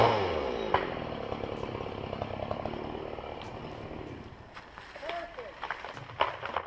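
A chainsaw runs while a crew saws trees, a steady buzzing engine drone filling the scene, with voices talking over it and a few sharper knocks near the end.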